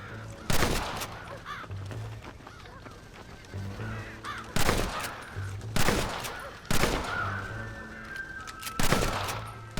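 Repeated gunshots from the Western video game Red Dead Redemption, fired at fleeing animals, ring out as loud sharp cracks every second or so, interspersed with goose-like honking calls between the shots.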